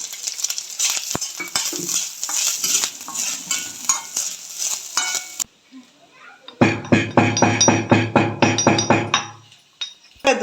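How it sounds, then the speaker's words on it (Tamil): Grated coconut sautéed with cashews and raisins in a pan for sweet semiya, with crackling sizzle and clattering, then a burst of rapid rhythmic spatula scraping against the pan, loud and close. "இப்போ தேங்காய் அதிலே போட்டு வதக்கிக்கலாம்"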